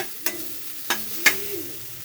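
Gentle sizzle of grated coconut frying in a little tempering oil, broken by three sharp spatula scrapes against the pan; close by, with no talking.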